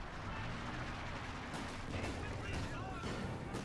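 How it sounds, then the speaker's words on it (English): Artillery barrage in Company of Heroes 2, a steady rumbling roar of distant shell fire and impacts with a few sharper cracks, continuous and moderately loud, while someone talks over it. "Artillery cover now going off."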